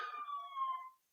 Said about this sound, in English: this is a police car siren here